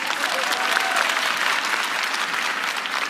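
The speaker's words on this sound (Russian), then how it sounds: "Ваши аплодисменты." Studio audience applauding on a televised dance competition final, a dense, steady wash of clapping that holds loud and even throughout.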